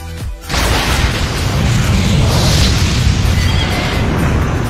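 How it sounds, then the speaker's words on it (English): Liquid explosives detonate on a snowy cliff with a heavy boom after a short hiss, then a loud, sustained rumbling roar of debris and snow continues without pause. "The explosion created a large void."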